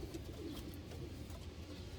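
Racing pigeons bred for 2021, including a blue bar bird, coo softly in a loft amid steady low background rumble, their murmuring calls continuous and close.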